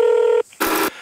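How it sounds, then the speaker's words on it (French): A telephone number is dialed: a steady touch-tone beep cuts off, then a short burst of a second tone follows, loud and close with no talking. "cela commence par des coups de téléphone, des dizaines d'appels aux entreprises de gaz"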